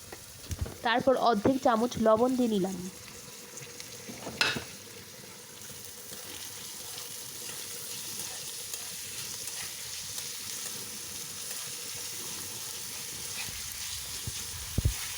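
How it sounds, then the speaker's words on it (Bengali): Chopped onions fry in a pan for a singara filling, making a steady, quiet sizzle throughout, briefly masked near the start by a singing or humming voice and a single sharp clatter. "পেঁয়াজটাকে ভালোভাবে ভেজে নিতে হবে"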